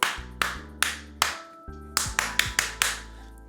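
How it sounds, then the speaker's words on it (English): Hands clap sharply and close to the microphone, a sync test for a DSLR feeding a capture card: four evenly spaced claps, a short pause, then a quicker run of about six claps. "Do a little clap test here."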